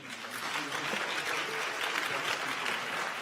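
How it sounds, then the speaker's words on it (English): Audience applause at the UN Youth Climate Summit, a dense, steady wash of many hands clapping, moderately distant and continuous throughout. "you should give yourself a huge round of applause"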